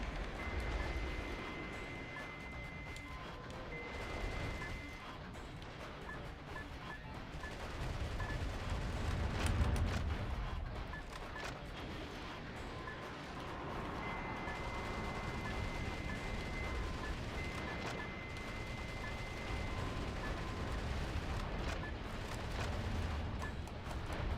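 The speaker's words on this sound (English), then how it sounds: "where the heck do those missiles keep coming from?" Missile explosions and gunfire pound through continuous combat in the video game Metal Wolf Chaos XD, a dense, rumbling barrage of blasts with a heavier surge near the middle, alone without talk.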